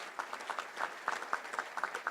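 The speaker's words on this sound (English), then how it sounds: "Give a round of applause." Scattered applause from a small audience at a touchdown club luncheon, a few hands clapping irregularly and fairly faint, with no talk over it.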